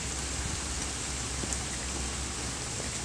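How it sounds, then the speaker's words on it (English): Heavy rain pouring down in a steady, dense hiss, with scattered louder drops tapping nearby and no voices. "it's raining so damn hard"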